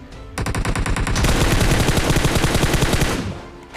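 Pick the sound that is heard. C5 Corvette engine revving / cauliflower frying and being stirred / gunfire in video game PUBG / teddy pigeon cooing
gunfire in video game PUBG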